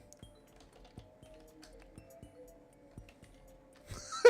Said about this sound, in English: I'm typing out some ideas in chat.